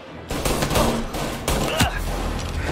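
Gunfire in the Mafia video game: a rapid, loud fusillade of close shots crackling in quick succession with little pause between bursts.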